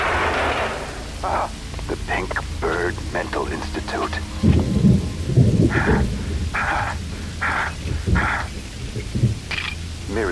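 Rain hisses steadily through a gloomy scene in the video game Max Payne 2, with low thunder-like rumbles, a voice speaking over it and bursts of game music and effects partly masking the downpour.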